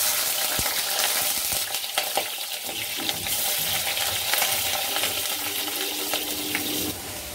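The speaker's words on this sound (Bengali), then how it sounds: "তো সবার প্রথমে আমি বেগুনটা ভেজে তুলে নেব।" Eggplant fries in hot oil in a wok, a steady crackling sizzle with occasional clinks and scrapes of a utensil, close and continuous.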